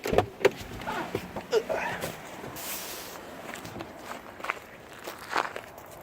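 A driver gets out of a rideshare car and walks. The footsteps are close and soft, with a few irregular scuffs, and a door or window sounds faintly in the background. No one talks.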